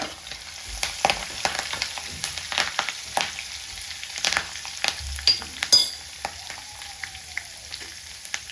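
Garlic and curry leaves crackle and sizzle in hot oil for a pickle tempering, a dense, close spitting fry with sharp pops and a few stirring scrapes throughout, no voices.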